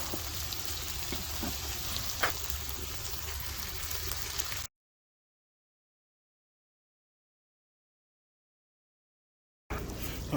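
Steak and peppers sizzle in a pan over a wood fire outdoors with a steady, faint crackling hiss; the sound cuts out to silence partway through and returns briefly at the end.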